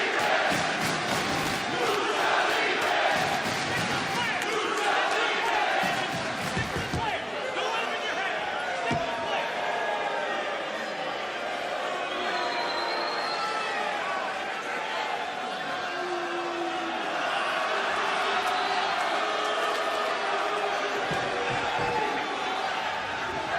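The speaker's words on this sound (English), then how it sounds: "we do know the crowd fired up by favorite Ultimo Guerrero" A wrestling arena crowd roars and cheers for a favorite during a live pro match, loud and sustained throughout, with commentators talking over it.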